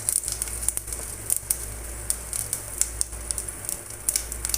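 Panch phoron spices crackling in hot oil in a saucepan, a quiet steady sizzle broken by sharp irregular pops, close by with no talk.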